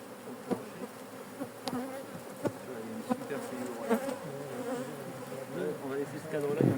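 Honeybees buzzing inside a crowded nucleus hive, a steady dense hum with a few louder individual bees passing close.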